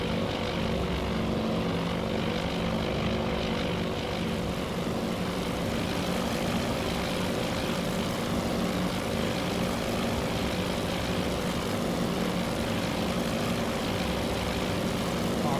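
Propeller aircraft of a Midway Island airstrike in the Task Force Admiral game, a steady droning engine hum that holds level throughout with no speech.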